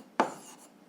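A pen scratches across paper in one short, firm stroke, then a faint trailing rub, close and quiet, while working a school physics exercise.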